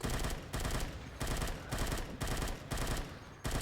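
Rapid automatic gunfire from the zombie shooter video game Unkilled, loud, dense bursts repeating in a steady rhythm of roughly half-second volleys with brief gaps, no talking.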